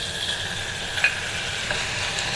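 Chicken pieces stir-fried with spice paste in a pan for a quick noodle soup, giving a steady close sizzle with faint scraping from stirring and one sharp clink, no talking.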